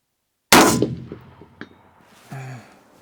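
Rifle shot fired at a 400-metre target on an outdoor range: one sharp, loud blast that decays in a rumbling tail, followed by a faint distant impact and a short tonal ring.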